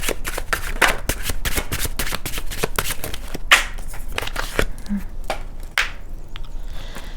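Tarot cards being shuffled by hand, a steady run of quick papery riffles and slaps that continues for several seconds at close range with no talking.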